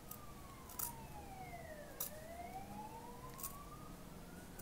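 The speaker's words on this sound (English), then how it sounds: "Sorry about the sirens in the background." Distant emergency sirens wail and sweep up and down in pitch, faint in the background, with a few soft clicks and taps nearby.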